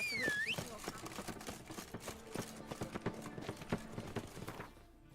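Hooves of the horse Roach galloping in The Witcher 3 video game, a quick rhythmic clip-clop that runs throughout, mixed with a brief whooshing effect at the start and other game sounds.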